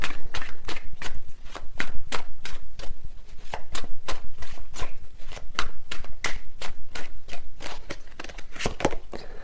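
Tarot cards riffle and snap in a fast, steady run of crisp flicks for the whole stretch, close and fairly loud, with no voices.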